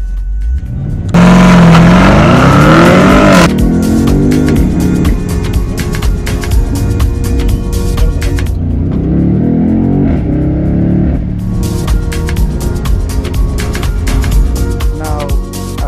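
BMW M850 convertible launching from 0 to 100 with the top down, a loud close engine roar that climbs through rising revs with gear shifts, then dips and surges again with wind rush.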